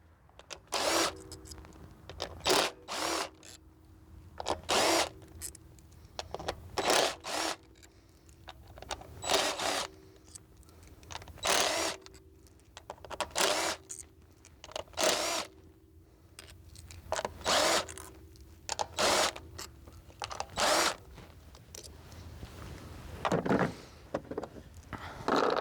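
A power drill backs out the 8mm coil pack bolts on a Jaguar XJ6 in repeated short, close whirring bursts with pauses between them.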